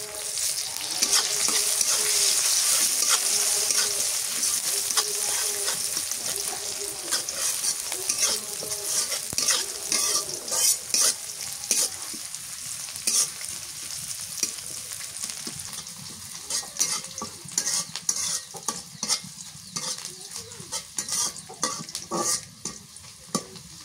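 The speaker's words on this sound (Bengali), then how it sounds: "পেঁয়াজ ভাজা হয়ে গেছে" Chopped onions fry with bay leaves in hot oil, a loud close sizzle broken by rapid rhythmic scraping and clattering of a spoon stirring against the pan.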